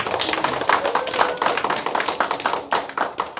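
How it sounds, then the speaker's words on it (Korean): Audience clapping at a cultural class in a literary museum, a small group of close, distinct hand claps with an uneven patter that thins into sparser individual claps toward the end. "일단 크게 한번 박수 한번 보내주십시오"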